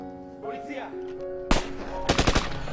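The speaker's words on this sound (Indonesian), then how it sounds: "dari jauh suara tembakan terdengar" Sharp bursts of distant gunfire in a film crack out in a rapid cluster, following a quieter stretch with a faint tonal hum.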